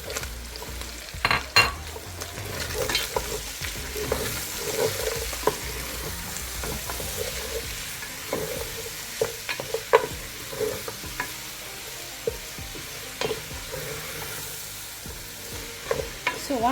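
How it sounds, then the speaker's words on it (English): Chopped onion frying in hot oil for a beef wet fry, a steady sizzle with repeated stirring scrapes and clicks of a utensil against the pan. The sound stays close and moderately loud, and no one speaks. "Our oil is hot, a little hot, so I'm gonna go in with my onion."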